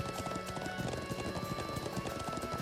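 Steady, rapid hoofbeats of a galloping horse in the video game The Legend of Heroes: Trails of Cold Steel II, continuous rhythmic clip-clop with a busy background and no talking.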